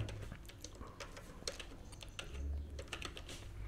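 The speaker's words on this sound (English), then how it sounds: "The first step is go to the start menu and type cmd" A few quick keystrokes are typed on a computer keyboard in the Windows start menu, soft and close, clicking in an uneven patter with no speech.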